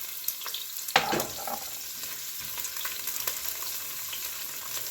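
Garlic and onion sautéing in a pot for vegetable soup, a low steady sizzle with a few louder crackles and stirring scrapes near the start, no talking.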